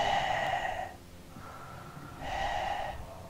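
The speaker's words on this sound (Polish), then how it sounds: "I to dyszenie charakterystyczne" Heavy, rhythmic panting from a character in Alan Wake, two loud breathy bursts with a softer gasp between them, close and alone without talk.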